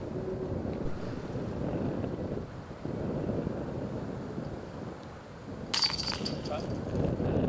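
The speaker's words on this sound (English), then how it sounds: "We hear and feel the wind at this point." Gusty wind buffets the microphone on an outdoor disc golf course during a tournament round, a steady low rumble throughout with a brief lull and a harsher gust near the end.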